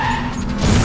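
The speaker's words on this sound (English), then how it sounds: "you'll then hear the sound cue of it skidding to a stop" The Clown Car in the game Dark Deception skids to a stop, a loud, close tire squeal with a grinding low rumble that swells toward the end of a brief burst.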